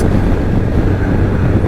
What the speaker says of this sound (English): today is very windy